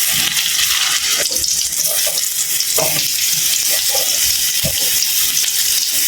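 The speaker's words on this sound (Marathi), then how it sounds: "आता कढईमध्ये ना सगळी ना मी दोडकी घालून घेतली भरलेली." Stuffed ridge gourds fry in oil in a kadhai over spiced masala, giving a loud, steady broadband sizzle with occasional stirring clinks throughout.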